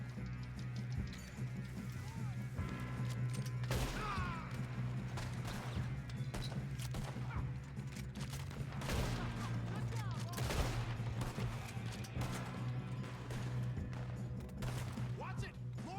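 Rapid gunfire crackles through a train robbery shootout in the video game Red Dead Redemption 2, with repeated sharp shots and bursts over a steady train rumble while characters talk amid the fight.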